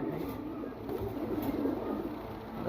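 Soft, low cooing from a group of pigeons, including female birds, kept as a flock, rolling on steadily and close by with no talk over it.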